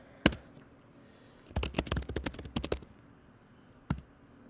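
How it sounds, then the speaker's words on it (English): Keys clack on a computer keyboard while a commit message is typed: a sharp lone tap, then a quick close burst of about a dozen keystrokes, a pause and one final press. "I'll type a commit message."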